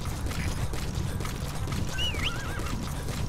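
A horse in Metal Gear Solid 5 neighs with a short, wavering whinny near the end, over a steady rumble of rain and wind, with faint hoof clops.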